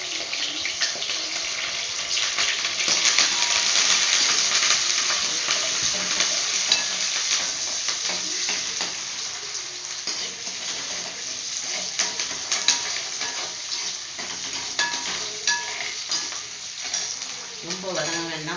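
Green chillies, small shallots and curry leaves fry in hot oil, giving a sizzle with frequent scraping and stirring clatter that is loudest early on and then settles into a steadier crackle.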